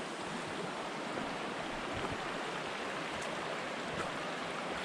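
Creek water at Kanarraville Falls flows steadily around a hiker, a dense broadband rushing wash with no breaks, close and fairly loud, with no voices.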